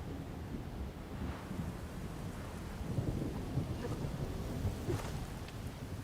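Thunderstorm in the video game Horizon Forbidden West: a steady roar of rain and wind with low rumbling thunder rolling in, swelling midway, no voices.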